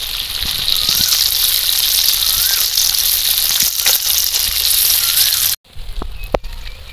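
Lentil cakes (dhoka) frying in hot oil, a steady loud sizzle with fine crackling throughout, a brief break near the end followed by quieter sizzling and a few sharp pops.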